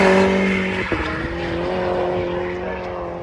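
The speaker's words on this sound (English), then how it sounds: "absolutely mental car, and you'll hear it scream past you very, very shortly." Turbocharged race car of roughly 1,100 horsepower at a Castle Combe circuit track day, loud engine note holding steady tones with a brief pitch drop near the start, droning on close by without talk.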